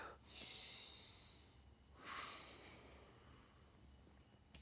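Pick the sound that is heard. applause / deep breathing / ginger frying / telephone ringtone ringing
deep breathing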